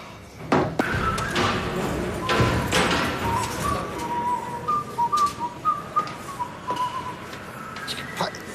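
A man whistles a wandering, melodic tune at moderate volume in a family home, with thumps and knocks of movement around him and some voices nearby.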